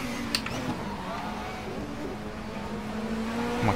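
A race car engine in Race 07 (WTCC 07) at Valencia: a steady droning engine tone that shifts pitch slightly as the car brakes and accelerates, continuous and fairly loud, with a brief tick near the start.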